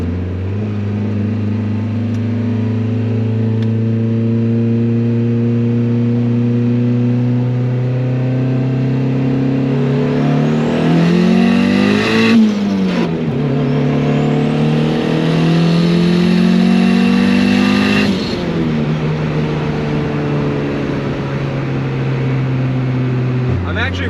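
A turbocharged Honda Civic with a single-cam engine pulls hard through the gears, its engine note climbing loud and close, dropping at each shift, then rising again under boost.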